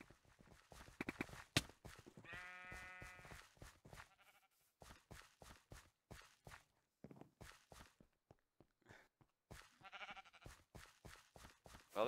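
In a Minecraft Mineplex mini game, a sheep bleats among a steady run of rhythmic footstep taps and clicks, one clear bleat early and fainter bleating later, close and without talk.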